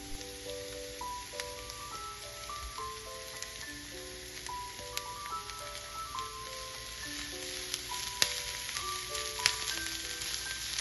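Grated carrot and onion sauté in oil in a pan, a steady, fine sizzle running through without pause while a melody plays over it.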